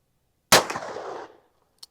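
A Colt Python revolver fires a single .357 Magnum round, a loud, sharp report with a ringing tail of just under a second, followed by a faint small click.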